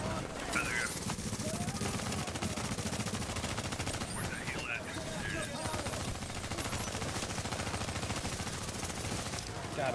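Gunfire in a squad-based shooter game, rapid bursts of automatic shots that run densely through the whole stretch, with a voice talking over them.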